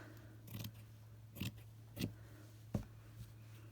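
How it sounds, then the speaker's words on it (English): Scissors trimming fabric for a slow-stitched trifold pouch, four or five crisp, separate snips spaced about half a second apart, close and quiet against a faint steady hum. "And then I can just trim this side down a little bit."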